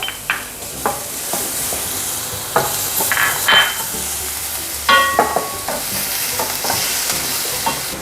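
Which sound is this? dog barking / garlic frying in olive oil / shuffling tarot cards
garlic frying in olive oil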